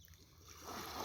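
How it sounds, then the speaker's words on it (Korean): Gentle sea waves wash softly onto the shore at Mohang harbor in Byeonsan on the west coast just after sunrise, a quiet broadband hiss that swells slightly louder over about a second. "조용하고 은은하게 파도 소리가 출렁출렁 하고 있습니다"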